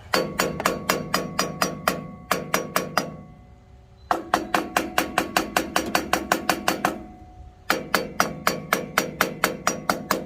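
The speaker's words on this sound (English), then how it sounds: "take a hammer, just tap on it, see if I can get it" Rapid metallic hammer taps on a Farmall A tractor's needle valve ring out in quick bursts of ten or so strikes, with short pauses between groups, close and sharp.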